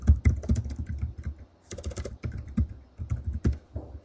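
Keys clatter on a computer keyboard in quick bursts as a folder name is typed, with brief pauses between the runs of close, crisp clicks.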